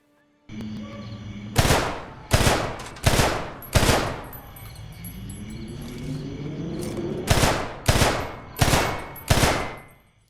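Automatic gunfire from the Homefront video game, loud bursts in two groups, four quick volleys, a pause with a low rumbling whine, then four more volleys, each burst ending with a decaying tail.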